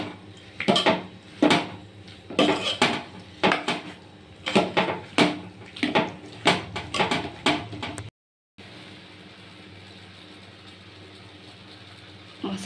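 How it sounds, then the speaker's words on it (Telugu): A metal spoon scrapes and clanks rhythmically against a pan while stirring and frying garlic paste for a brinjal and potato curry, a steady series of loud close knocks, then a brief cut to a quieter low background hiss. "ఒక 5 మినిట్స్ ఆగి ఇందులో వేసి ఫ్రై చేస్తున్నాను"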